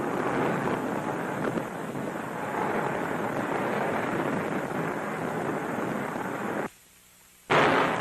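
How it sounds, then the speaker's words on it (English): Allied artillery big guns firing at night during the WWII North Africa campaign near Tunis and Bizerte, a sustained loud rumbling barrage that drops to near silence briefly before resuming. "As darkness falls, the Allied big guns go into action to prepare the way for complete collapse of the Axis defenses."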